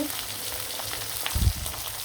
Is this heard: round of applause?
no